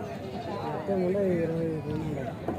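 At a weekly sheep and goat market in Galiveedu, a goat gives a clear, wavering bleat close by, amid nearby voices and crowd chatter.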